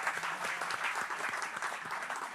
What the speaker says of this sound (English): Peter, I think that was the loudest applause of the night.